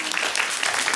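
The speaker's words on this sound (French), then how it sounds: "On peut l'applaudir, s'il vous plaît?" An audience claps for a young girl brought up during an African storytelling show, a dense, even patter of applause filling the brief moment.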